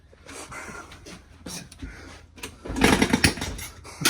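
A small pit bike with no exhaust fitted, either a Honda XR100 or a Yamaha TTR90, being kicked over and starting up, its raw unmuffled engine catching and sputtering louder toward the end, close by.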